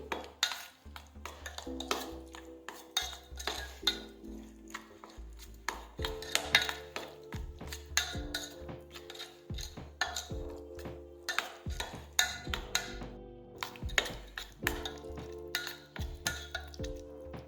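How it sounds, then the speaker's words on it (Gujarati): A spoon stirs garlic Schezwan chutney in a bowl, tapping and scraping in quick, uneven strokes with clinks against the bowl, close and steady for the whole stretch, with no talk. "હવે આપણે મિક્સ કરી દઈશું"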